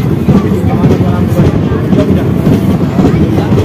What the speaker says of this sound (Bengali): গাড়ি এখন ফতেপুর স্টেশন ছেড়ে যাচ্ছে